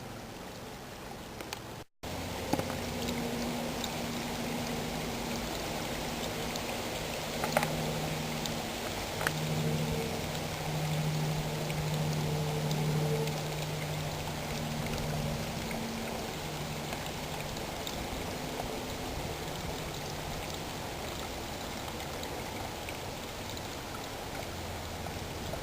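Clear water running along Clearwater Creek in the woods of northwestern Pennsylvania, a continuous close rushing and trickling that stays steady, with a faint low hum beneath it.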